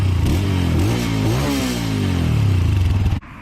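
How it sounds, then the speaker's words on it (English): A KPM200 Chinese motorcycle engine revs up to redline, its loud, close exhaust note rising and falling in pitch through several throttle blips before cutting off abruptly, with no talk. "drop in a video real quick of us revving the engine up to redline"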